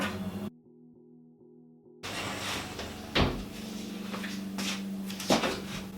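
A wardrobe cupboard door in a homemade dressing room swings open with a short creak and clatter, followed by a couple of sharper knocks and bumps from the door and fittings, close and alone with no voices.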